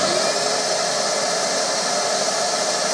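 A steady, loud broadband whoosh of a Nilfisk Aero 26 wet and dry vacuum running continuously, with no other sounds or voices.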